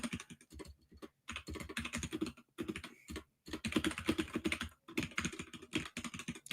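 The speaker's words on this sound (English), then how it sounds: "Let me just type out the link." Keys clatter on a computer keyboard in quick, uneven bursts with brief pauses, close and fairly loud, as a link is typed out, with no talking.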